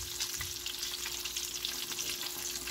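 Chicken fillet, breaded for a homemade KFC-style zinger burger, sizzles steadily in a pan after being flipped, a constant close hiss with no talk over it.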